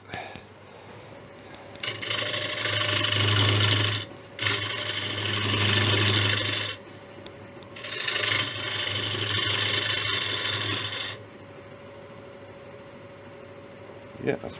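Large ash bowl spinning on a wood lathe while a turning tool cuts it, in three sustained stretches of loud, rough scraping and whirring separated by short pauses, with steady motor hum throughout.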